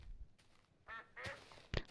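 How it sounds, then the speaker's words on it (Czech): A duck in the modded Minecraft game Tekkit gives a few short nasal quacks, close and quiet, spaced irregularly across a brief moment. "Tady zabijeme kachnu."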